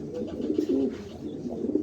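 A pair of grizzle pigeons give low, rolling coos, a few throaty phrases close by against faint background noise.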